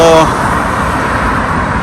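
Street traffic around the Cibao area, a steady broadband wash of passing cars and road noise at moderate level throughout, with a brief tonal voice-like burst at the very start.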